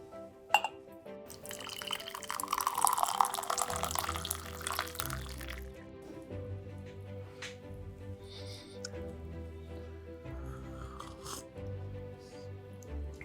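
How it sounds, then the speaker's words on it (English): Freshly brewed leaf tea pours from a teapot with a filter and locked lid, a steady liquid stream building for a few seconds, then fading into softer trickles and drips. "So the tea has now brewed, and I'm just about to pour."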